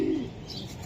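Racing pigeon giving a short, low coo at close range, fading quickly into quiet background.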